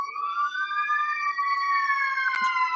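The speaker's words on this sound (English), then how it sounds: "we seem to have something going on in the city of Loudon, because I believe I heard both fire engines coming out." Fire engine sirens pass down a street in the city of Loudon, a loud, continuous wailing tone gliding steadily up and down for the whole stretch, with a brief sharp knock near the end.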